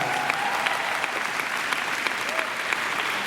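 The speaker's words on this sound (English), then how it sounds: "Let's give them a big round of applause." A crowd at an Elvis tribute artist event in Tupelo applauds steadily, a sustained wash of clapping heard from some distance, with faint voices mixed in.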